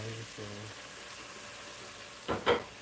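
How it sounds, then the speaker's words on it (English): Hot dogs fry and brown in a home-kitchen pan while charro beans are being made: a steady, low sizzle runs throughout, a voice speaks briefly at the start, and two short clattering bursts come near the end. "I want to get my hot dogs a little bit brown before I add in the other vegetables"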